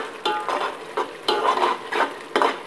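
Vegetables going into frying masala in a pan: a sizzle with repeated rhythmic stirring scrapes, close and clear, with no voices.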